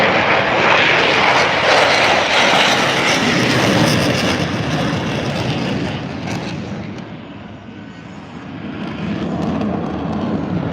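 Jets flying in formation at the Duluth airshow approach to land at about 150 knots, a loud broadband engine roar that swells and fades slightly and then builds again, with no talking.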